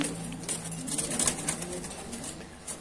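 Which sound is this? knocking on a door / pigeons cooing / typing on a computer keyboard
pigeons cooing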